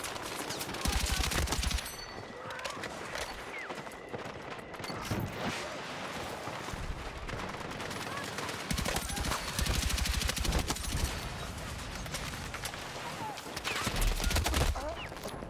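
Dense automatic gunfire from the video game Battlefield 6 rattles almost continuously, with sustained bursts and overlapping shots mixed with game effects, loud and busy throughout.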